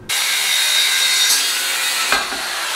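Close, loud saw cutting a pocket bike part being converted into a stand-up scooter, one continuous harsh rasping cut with a brief break partway through.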